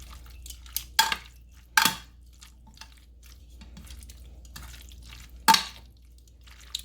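Beef strips being mixed with cornstarch in a bowl, wet squelching stirs with a few sharp clinks of utensil against the bowl spread across the clip, close and clear, no talking.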